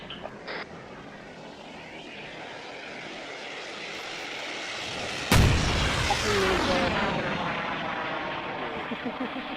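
An A-10 jet in the combat game Arma 3 roars in, then a sharp blast strikes midway, followed by a rising, sweeping jet engine whine as the aircraft passes close overhead.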